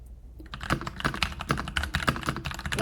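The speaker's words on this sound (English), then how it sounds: "While you're typing" Rapid, uneven keystrokes on a computer keyboard, clattering steadily and close up for a few seconds with no voices over them.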